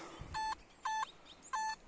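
Three short electronic metal detector signal beeps, evenly spaced and fairly loud, with a faint thump before the first.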